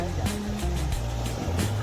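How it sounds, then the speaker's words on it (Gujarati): Sea waves wash steadily onto Dabhari beach, a broad, continuous surf rumble with low boat-like hum mixed in, fairly loud and close. "આ દરિયાના મોજા તમે જોઈ શકો છો"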